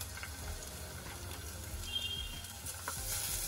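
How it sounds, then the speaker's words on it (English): Thyme and onions sautéing in butter in a pan, a soft, fairly quiet sizzle running steadily with faint clicks and stirring noises. "in my pan and a bit of butter as well, and I'm gonna saute some thyme."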